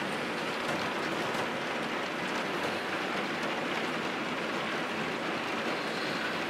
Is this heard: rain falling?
yes